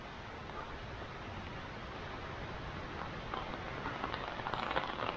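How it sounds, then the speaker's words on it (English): Raindrops patter onto an umbrella in a school-day traffic jam, a continuous close hiss with quick tapping that thickens and grows louder toward the end. "The drops hitting the umbrella."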